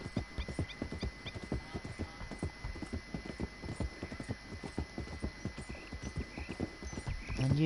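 Horse hooves clip-clop steadily at a brisk, even rhythm in the Red Dead Redemption Online video game, close and fairly loud, with a constant electronic hum beneath and no talk over the steps.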